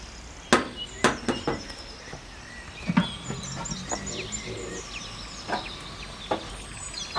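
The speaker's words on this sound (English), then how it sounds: "It sounds like we have some seagulls flying around." Seagulls cry faintly in the background while sharp knocks, like a bread knife cutting bread on a board, sound nearby at irregular intervals.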